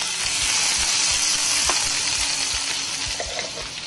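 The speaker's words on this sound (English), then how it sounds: "now our oil is getting pretty nice and hot. The first thing we're going to do is we're going to toast a little bit of chopped garlic" Chopped garlic toasts in hot oil for a ramen stir fry, giving a loud, dense, continuous sizzle with a few faint spatula taps near the end.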